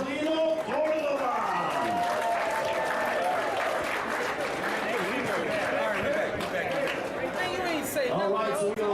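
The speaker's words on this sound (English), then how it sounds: "Let's give a round of applause to Angelino Cordova." At a boxing media workout in a Las Vegas ring, a crowd applauds a boxer, with clapping and chatter throughout and an announcer speaking over the noise.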